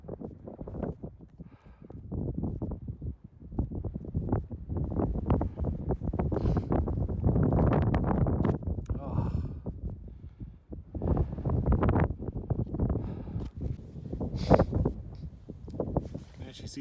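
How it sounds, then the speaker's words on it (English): Strong wind buffets the microphone on a mountain ridge near Canmore in the Rockies, in rough gusting roars that rise and fall throughout. "I'm getting blasted by the wind on this little ridge"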